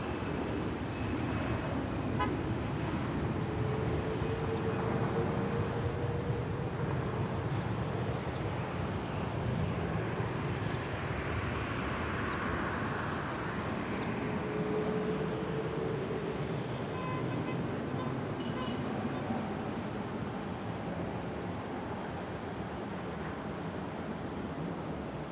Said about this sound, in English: I hear a 777 spooling up a little bit.